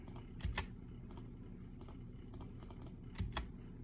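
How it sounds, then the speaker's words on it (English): Several quiet key taps on a computer keyboard while entering figures into a spreadsheet, arriving in small irregular clusters, with two heavier presses standing out from the lighter clicks. "So after, we will just click enter."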